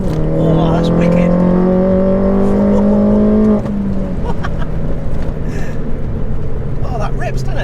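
A Mini GP2 with a 278 bhp Stage 2 engine pulls hard along a country B road. Its engine note climbs steadily for several seconds, then drops at a shift and settles into a rumbling cruise, with people talking over it inside the car.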